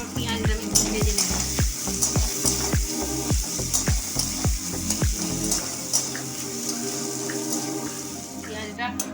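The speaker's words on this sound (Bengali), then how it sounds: "এরপর পেঁয়াজটা আমি ভেজে নেব।" Chopped onions frying in oil in a pan, a steady bright sizzle under a series of low rhythmic thumps, with a few sharper clatters near the end.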